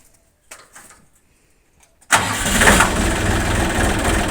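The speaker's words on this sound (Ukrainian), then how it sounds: "І заводимо трактор." A tractor engine, started to drive a homemade branch chipper, cranks and catches after a quiet pause with a few faint knocks, then settles into a loud, steady running rumble close by.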